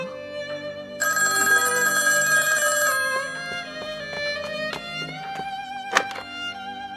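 A telephone bell rings indoors in a drama scene, a bright trilling burst followed by further ring tones and clicks, heard alone without talk.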